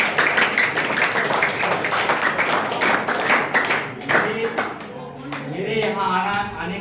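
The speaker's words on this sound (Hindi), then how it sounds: "जोरदार तालियों के साथ मनोज सर का भी बधाई देता हूं" Audience applause at an arts workshop event of a theatre society, dense clapping that fills most of the stretch before thinning out as a voice begins speaking near the end.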